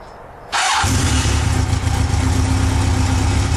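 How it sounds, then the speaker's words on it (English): A motorcycle engine cranks and catches abruptly, then settles into a steady, loud idle that runs close by without a break. "I'm going to go ahead and start the motorcycle back up."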